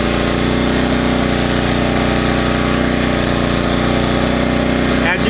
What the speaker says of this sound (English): Now I'm gonna turn this bad boy up all the way.